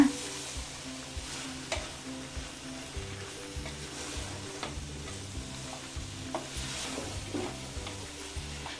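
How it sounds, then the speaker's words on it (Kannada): Soy chunks stir-fry in oil in a pan, giving a continuous sizzle broken by regular scraping strokes of the spoon against the pan. "ಎಣ್ಣೆಲಿ ಇದನ್ನು ಸ್ವಲ್ಪ ತಿರುಕೊಳ್ಳೋಣ"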